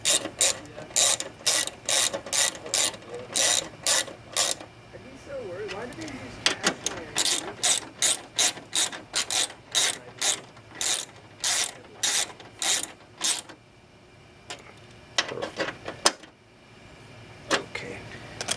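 Hand ratchet clicking in quick bursts as a bolt is tightened during starter replacement on a 2003 Toyota Camry XLE 4-cylinder, rapid close clicks in repeated runs with short pauses and faint background noise.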